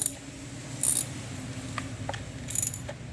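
Loose valve cover bolts being spun out by hand on a 2011-2016 Chevy Cruze 1.4L turbo engine, quiet metallic jingles and light ticks, close and faint.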